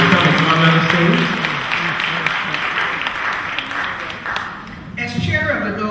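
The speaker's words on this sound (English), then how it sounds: "Let's give her a round of applause for all the work she's done." A gala audience gives a broad round of applause, many hands clapping together in a large hall. A speaking voice is heard before the clapping swells and again as it fades out.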